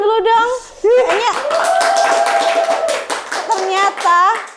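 A small audience at an Indonesian entertainment show claps in a loose patter, mostly buried under lively, close talking and laughter that dominate the moment.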